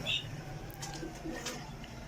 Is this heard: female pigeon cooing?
yes